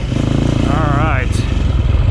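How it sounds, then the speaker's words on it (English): A Sherco 450 four-stroke motorcycle engine runs loud and steady throughout, with a brief rising rev in the middle, while someone speaks over it. "we're on a 450 now. Sherco 450, 4-stroke, obviously."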